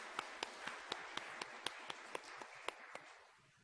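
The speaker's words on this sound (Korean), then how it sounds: "우리 박수 한번 쳐주겠습니다." A church congregation claps together in a slow, even rhythm, about a dozen crisp unison claps ringing in a reverberant hall before fading out.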